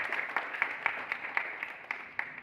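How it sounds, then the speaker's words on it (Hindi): Audience clapping for Neeraj Chopra at an Independence Day gathering: scattered, uneven handclaps from a small crowd, fairly near, with individual sharp claps standing out over about two and a half seconds. "उनके लिए ताली बजाइए पहले तो"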